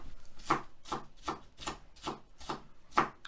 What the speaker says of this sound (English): Give a quick chop to this green onions.